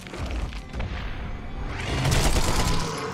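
Grenade explosions in the video game The Sinking City, heavy booming blasts with rumbling low thuds, a first burst early and a louder, sustained explosion swelling in the second half, with no speech.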